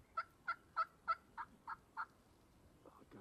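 A wild turkey gobbles in a snowy outdoor setting, a rapid run of about seven rattling, evenly spaced notes, moderately distant and fairly faint, with no talking over it.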